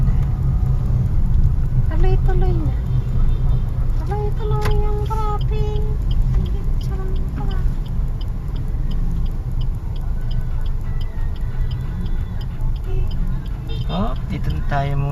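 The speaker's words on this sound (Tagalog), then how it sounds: "Tuloy-tuloy yung traffic." Road traffic in Caloocan streams past as a steady loud rumble of engines, with horns and small tones rising above it and occasional voices nearby.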